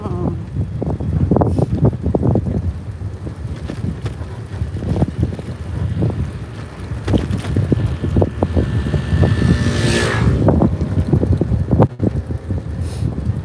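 Cold wind blowing outdoors across the microphone, a steady rough rumble and buffeting throughout, with faint movement sounds and a brief whooshing gust near the end.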